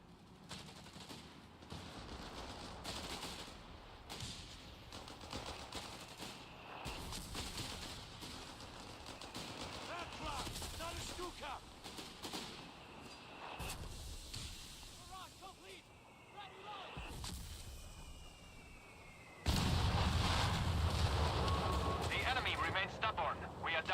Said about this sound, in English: We're taking panzer fire here!